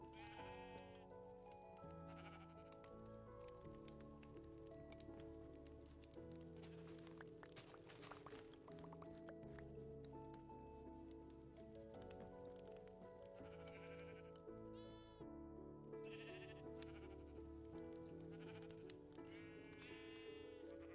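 Sheep in the video game Minecraft bleat repeatedly across the stretch, several short wavering calls standing out over steady background music.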